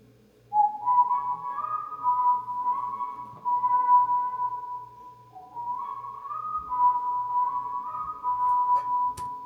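A clear whistled melody, solo and close, with sustained notes rising and stepping in two similar phrases separated by a short breath.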